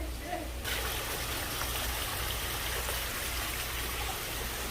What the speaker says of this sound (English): All right, we've got water. We've got pumping water.